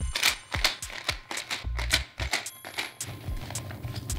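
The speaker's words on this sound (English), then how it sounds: "we put that in our shaker filled with ice," Cocktail shaker packed with ice and cranberry juice being shaken for a Bloodshot shot, a fast, loud rattling of ice cubes knocking against the tin in quick repeated bursts, close up with no talking.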